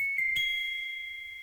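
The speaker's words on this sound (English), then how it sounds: "and when you pitch it way up, it sounds like this." A kalimba sample pitched far up into a thin, glassy chime: a couple of quick tinkling plucks, then a high sustained ring that decays slowly, quiet and alone.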